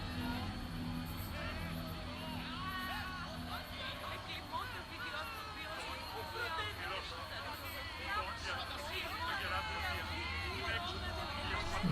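An arena crowd in the video game Assassin's Creed Odyssey, a continuous babble of cheering and chattering spectators with overlapping shouts, running throughout beneath a spoken character voice.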